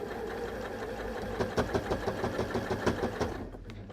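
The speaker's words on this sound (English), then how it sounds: "I'm just going to hold it in place and I'm going to sew straight across it." A sewing machine stitches straight across a bag handle, starting with a steady motor hum and then running into a close, rapid run of rhythmic mechanical stitching thumps that stops abruptly.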